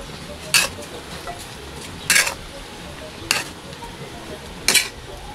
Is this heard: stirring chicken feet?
yes